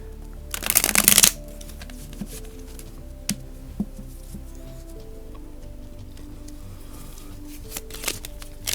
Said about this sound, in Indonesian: Shuffle dulu kartunya.